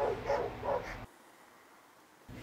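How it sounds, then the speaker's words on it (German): Dogs just out of view bark twice in loud, close succession during a dog-training outing with a leashed flat-coated retriever, then a quiet pause follows before the next sound begins. "Das Gebell kommt übrigens von den Hunden rechts außerhalb des Bildes und nicht von dem ersten angeleinten Hund."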